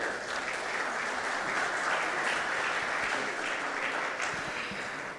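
A summit audience applauds a Paralympic committee president at a sports event, with dense, steady clapping that fills the room, loud and sustained throughout without speech.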